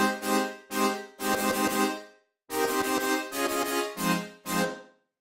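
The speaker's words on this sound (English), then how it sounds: "The chords on their own sound like this." Sustained synth chords, regular major and minor seventh voicings with added top notes, played as a series of held stabs with short gaps and one longer pause midway, bright and full, with no voices.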